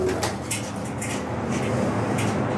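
Pigeons cooing at a home pigeon loft, a faint low murmuring coo against background noise, with a few light knocks and little talk.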